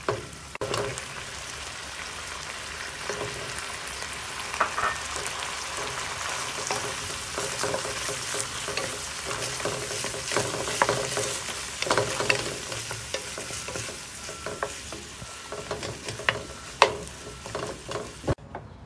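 Ground pork stir-frying in sauce in a hot pan gives a steady, close sizzle for the whole stretch, broken by scattered scraping clicks and clinks as it is stirred. No one speaks.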